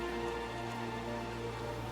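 Steady rain falls during bamboo rafting on a mountain river in South Borneo in the rainy season, a dense continuous hiss with a low rumble beneath, close and constant, no voices.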